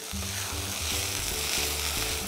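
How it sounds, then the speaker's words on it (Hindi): Green peas roasting with fenugreek leaves in a hot pan give a loud, dense, continuous sizzle close up, with faint stirring movements underneath and no talking. "इसको हम मेथी के साथ में भुनेंगे"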